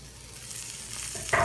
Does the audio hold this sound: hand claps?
no